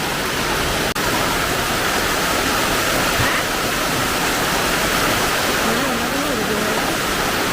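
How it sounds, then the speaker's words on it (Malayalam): Heavy rain pours at night in a dense, continuous roar of water that fills the whole stretch evenly. A faint voice briefly surfaces beneath the downpour near the end. "സൂപ്പർ മഴ"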